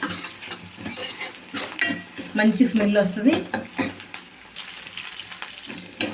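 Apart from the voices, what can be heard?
spice tempering frying in oil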